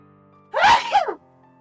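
A single sharp, loud sneeze, a sudden voiced burst that cuts off quickly against a quiet background with a faint low hum.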